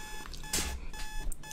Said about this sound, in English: My phone's alarm rings loudly in my ears, waking me up for the third time in a row